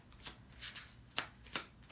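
Tarot cards are shuffled by hand in a reading, making several quick riffling bursts and crisp slaps at close range, fairly quiet, with no talking.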